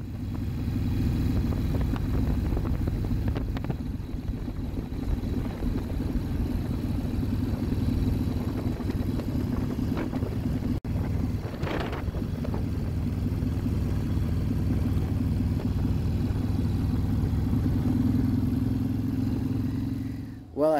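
A scooter rides steadily down a road with a continuous engine drone and wind rumble throughout, close and loud, with a brief passing swell midway.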